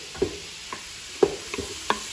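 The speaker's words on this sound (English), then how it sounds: "Just give that a stir." Onions frying in a pan sizzle steadily while a spoon stirs them in several quick, scraping strokes, close and fairly loud.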